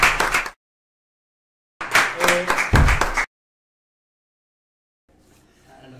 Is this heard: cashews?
no